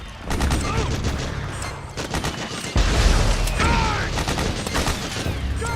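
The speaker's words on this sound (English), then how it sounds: "Suppressing fire!" Sustained suppressing gunfire in the Metal Gear Solid 4 video game, dense overlapping automatic bursts with sharp booms and shouted commands mixed in, loud and continuous throughout.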